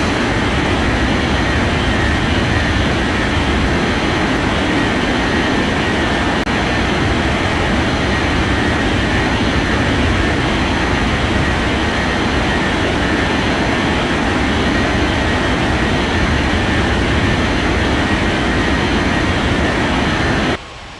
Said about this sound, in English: Japan Air 8569, cleared for takeoff runway 14 right.